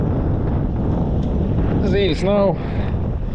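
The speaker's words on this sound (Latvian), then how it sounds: "Vējš, viļņi." Strong wind roars against the microphone on Babīte lake during a fishing competition, a constant loud buffeting that masks the water, while a person briefly speaks.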